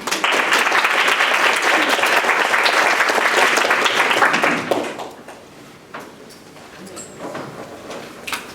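A lecture audience at a Penn State comparative literature luncheon claps to welcome a speaker. Dense, steady clapping lasts about four and a half seconds, then fades into a quiet room with a few scattered shuffles.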